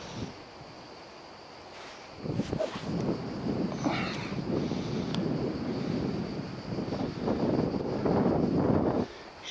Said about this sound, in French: J'ai vent contre.